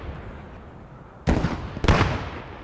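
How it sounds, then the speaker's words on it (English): German mortar fire in a World War II-style shooter game: two heavy, booming detonations about half a second apart, the second slightly stronger, over a quiet background hiss. "Oh, now the German mortars are trying to take back hotel."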